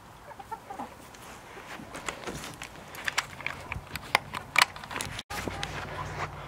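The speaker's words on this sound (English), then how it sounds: "So the chickens are in the start of the winter chicken coop." Chickens cluck softly and intermittently in a winter chicken coop, with scattered brief squawks and faint shuffling nearby against a quiet background.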